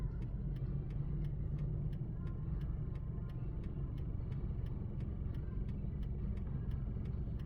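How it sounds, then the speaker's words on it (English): A car on a suburban road on a driving test route hums steadily, low and fairly faint, heard from inside a vehicle with a regular indicator ticking over it. "No, I think a car is coming over here."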